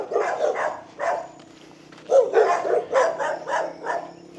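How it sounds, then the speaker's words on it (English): A dog barks in repeated bursts, several sharp woofs in an uneven rhythm with short pauses, fairly close and loud, with no speech over it. "Sorry for the dog, guys."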